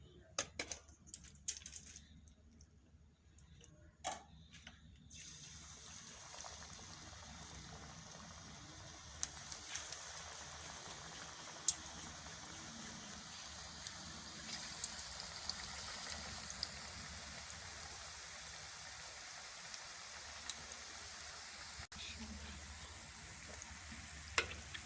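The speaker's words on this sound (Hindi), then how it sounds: "अब कढ़ाई में हमने ऑयल डालकर इसको गर्म कर लिया है। आप इसमें चम्मच की मदद से थोड़े थोड़े पकौड़े डालते जाएंगे।" Pumpkin pakoras fry in hot oil in a wok, giving a soft, steady sizzle that stays quiet and even throughout, with a few sharp clicks and clatters near the start.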